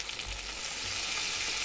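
Chicken kosha and potatoes fry in a pan with a steady, close sizzle and occasional stirring scrapes, continuous and fairly loud with no voices.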